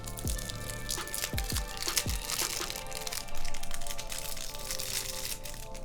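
Crinkling and crackling plastic packaging is torn open around a Tiramisu keycap, with a few sharp crunchy snaps early on, then steady rustling handled close by.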